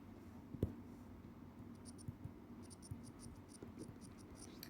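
Pen writing math on paper during a seventh-grade maths lesson, faint scratching strokes with a few soft taps, quiet and close, with no talking.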